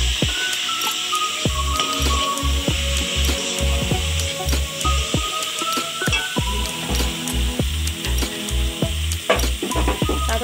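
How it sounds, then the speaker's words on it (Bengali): Spices and small chopped potatoes sizzle in hot oil for pangas fish curry, with a steady frying hiss and repeated scraping knocks of a spatula stirring the pan, close and continuous without talk. "সব মশলাকে একসঙ্গে ভালো করে কষতে হবে।"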